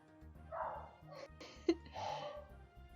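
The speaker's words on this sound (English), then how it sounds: "Why is the dog barking?" A dog barks a few times in the background, faint and a little distant, with short yips spaced across a couple of seconds while a person talks nearby.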